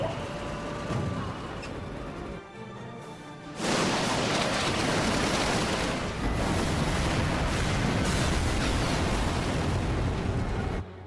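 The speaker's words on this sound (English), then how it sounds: "to the cannons. Make ready and fire." Cannon volley fired by a ship's crew in the Final Fantasy XII video game: a heavy, sustained roar of booming blasts that bursts in loudly after a brief lull and rumbles on for several seconds.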